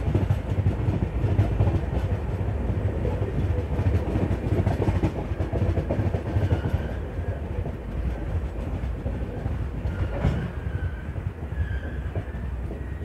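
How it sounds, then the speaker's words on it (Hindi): Inside an Intercity Express train arriving at Karnal station, a continuous rumble of wheels and carriage noise fills the cabin, with occasional clacks and a gradual easing as the train slows. "ट्रेन तो करनाल पहुंच गई"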